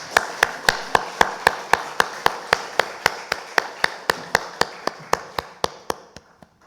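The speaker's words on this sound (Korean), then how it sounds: "하나님께 영광의 박수 올려드립니다" A congregation at a Sunday church service claps in unison, crisp, evenly spaced claps about three per second, steady, then tapering and fading out at the end, with no talk.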